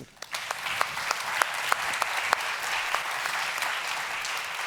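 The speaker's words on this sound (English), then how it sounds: "can we give it another huge round of applause to our incredible panel" An audience at a YMCA World Council panel breaks into applause, starting sharply and settling into steady clapping with distinct individual claps standing out near the front.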